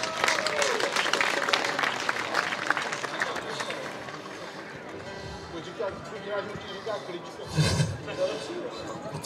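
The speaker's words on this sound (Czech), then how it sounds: "Prosím o potlesk pro našeho benžistu." Audience at a banjo jamboree in Čáslav applauding the band's banjo player, a dense spread of clapping and crowd noise that fades somewhat midway and then swells again briefly, with speech mixed in.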